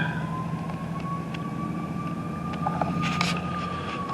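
Emergency vehicle sirens wail at night near a cemetery, a steady distant rising tone over low rumbling background noise.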